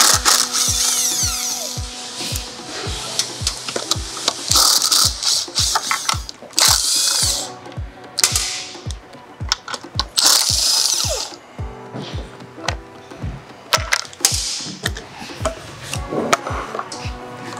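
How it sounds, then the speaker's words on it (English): Plastic tabs popping and a motorcycle mud guard being pulled free on a Suzuki SG400 during fender removal, heard as rapid repeated clicks and snaps with louder bursts of scraping plastic, close and steady with no talking. "we can go ahead and pull up one final tab and then remove the mud guard"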